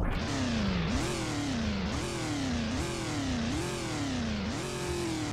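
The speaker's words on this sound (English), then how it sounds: "And here are the revs." Close, loud engine of a 2013 Chevrolet Camaro SS revving in repeated blips, about five rising and falling pulls over a steady throaty exhaust, with no speech.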